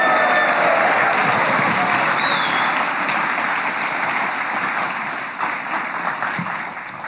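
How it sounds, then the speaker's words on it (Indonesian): Loud, sustained studio audience applause welcoming a guest onto a talk show, dense and even throughout, tapering slightly toward the end. "Mari kita sambut semeriah-meriahnya dengan tepuk tangan yang membahana"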